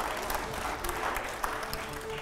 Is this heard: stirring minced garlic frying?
no